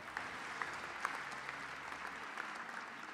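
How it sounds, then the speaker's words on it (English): Fairly faint, even applause from a benefit gala audience raising funds to cure NF, steady clapping with a few distinct claps popping out. "Let's say thank you with an incredible round of applause."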